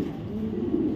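Pigeons, including racer pigeons on a breeding farm, cooing in low, steady, rumbling murmurs that carry on without a break, fairly close and with no talking over them.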